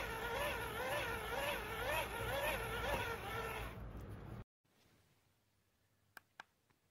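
Hand crank of a PRUNUS 924 emergency radio turning: a steady, close whirring drone with a wavering, cyclic pitch for about four seconds, then it stops abruptly, followed by near silence and a couple of small clicks.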